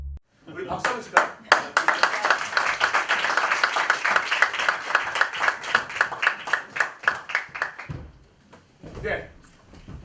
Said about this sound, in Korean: 우리 박수 한번 칠까요?